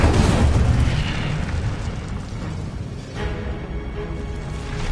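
The Incendio fire spell in Hogwarts Legacy goes off as a loud, deep whooshing burst of flame that roars at once and then slowly fades, with no voices.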